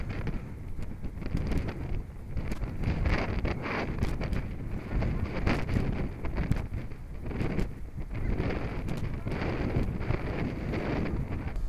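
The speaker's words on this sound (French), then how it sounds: "il y a toujours du vent et toujours pas de soleil" Steady wind buffets the microphone on the exposed Normandy coast at Goury, a continuous loud rushing roar with gusty swells and no pause.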